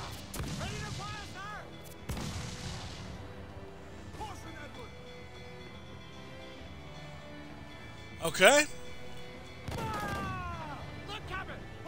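Naval cannon fire in Assassin's Creed IV: Black Flag: a few heavy broadband booms from a sailing-ship battle, spread across the stretch, mixed with game voices, music and a person talking.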